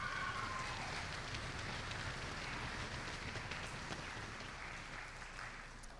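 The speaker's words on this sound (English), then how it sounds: "Can you give her a round of applause?" Applause from a band concert audience after a timpani solo, a dense steady clatter of many hands filling the room, close and sustained, easing slightly toward the end with no talk over it.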